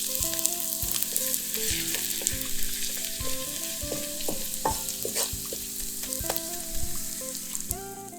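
XO sauce sizzles steadily in a hot pan while a utensil stirs through it, with scraping and clinks coming up close over a constant frying hiss.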